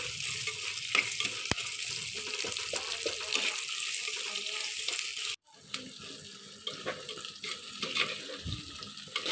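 Onions frying in a pan and being stirred until golden for an arai keerai kuzhambu, a steady sizzle with scraping stirs throughout, a brief break midway, then frying resumes.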